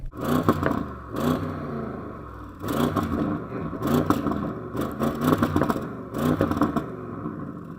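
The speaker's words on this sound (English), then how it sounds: "judge my engine on it being a practical family estate and see how good it sounds" An Audi RS6 estate engine revs repeatedly in short bursts, rising and falling several times with brief pauses between, close and fairly loud.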